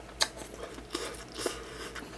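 Someone chews pan-fried galbi dumplings from 7-Eleven, giving a few soft, close bites and moist chewing sounds in quiet surroundings.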